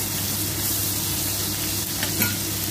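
Pad kaprao stir-fried with minced pork and basil in a hot pan, a steady loud sizzle with stirring scrapes running throughout, close and alone with no talk.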